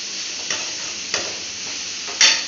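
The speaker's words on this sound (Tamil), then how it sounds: "அடுப்பை ஃபுல்லில் வச்சு இது வதங்கட்டும்" Two onions sautéing in oil over a full flame as the base for a Tamil fish curry, a steady soft sizzle with a few sharper stirring scrapes, the last one loudest.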